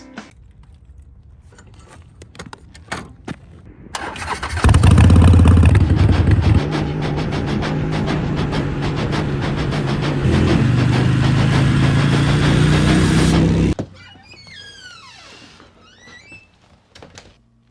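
A Harley-Davidson motorcycle engine starts and idles loudly nearby for about nine seconds, then cuts off, leaving quiet with birds chirping.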